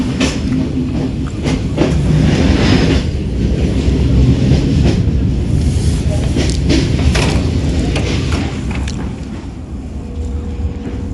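A Romanian sleeper night train from Brașov to Baia Mare rolls loudly along, its heavy rumble broken by repeated clacks of the wheels over rail joints, heard from inside the carriage.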